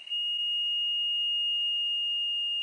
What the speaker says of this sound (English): we'll hook it up to this small buzzer.